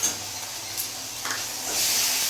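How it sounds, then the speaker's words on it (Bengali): Ground cumin and Kashmiri chili powder fry in oil in a pan for an egg curry, a steady close sizzle with soft stirring scrapes that swells louder toward the end. "জিরে গুঁড়ো দিয়ে দিলাম 1 চামচ, আর কাশ্মীরি লঙ্কা গুঁড়ো দিয়ে দিলাম 1 চামচ।"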